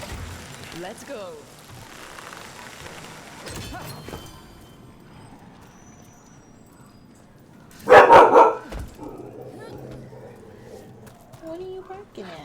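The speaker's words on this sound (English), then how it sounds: "What are you barking at?" A dog barks in the fantasy video game Dragon Age: The Veilguard, one short loud burst of barking standing out over quiet game ambience and footsteps.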